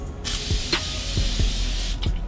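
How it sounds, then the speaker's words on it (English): A spray bottle misting water onto hair being brushed out for a braided ponytail, steady hissing spray running throughout with a few soft clicks and brushing knocks, close and alone without talk. "Brush it out, spray it with some water."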